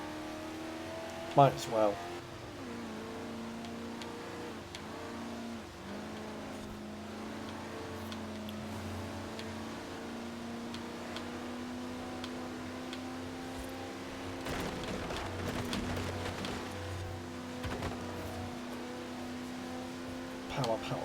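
A Chevy car engine in a driving video game revs and holds a steady drone with small pitch shifts, and a person talks over it.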